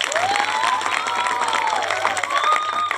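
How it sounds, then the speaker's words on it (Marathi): Audience applause and cheering for a speaker at a school or community event, clapping mixed with excited young voices calling out and sliding whoops, lively and sustained. "देवमाने सर साठी एकदा जोरदार टाळ्या वाजवा सगळे"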